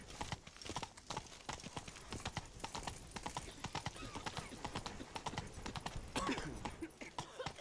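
Hooves pound in a fast steady gallop as the horse Roach is ridden in The Witcher 3, close and continuous with a brief rise near the end and no speech.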